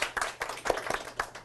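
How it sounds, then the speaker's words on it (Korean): An audience claps for a guest introduced on a Korean CEO talk show, a brief, irregular patter of hand claps from a modest crowd, fairly close and without speech over it. "박수 부탁드리겠습니다."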